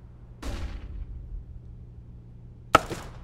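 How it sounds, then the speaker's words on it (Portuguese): Two flashbang grenades go off in a video game, a softer bang followed by a second, sharper crack, each decaying quickly into quiet. "Vou botar aí também. Flashbang."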